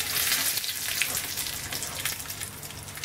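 Curry leaves and chillies frying in a mix of sesame and coconut oil, a loud, close, hissing sizzle with bright spitting crackles that gradually eases off.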